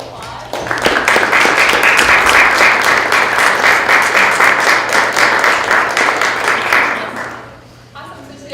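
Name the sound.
audience applause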